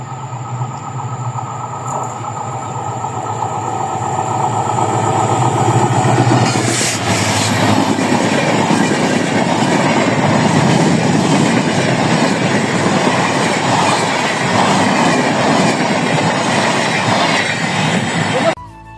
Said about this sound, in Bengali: ট্রেন এখনো অনেক দূরে কিন্তু আমি যেখানে দাঁড়িয়েছি এখানে কেঁপে যাচ্ছে মাটি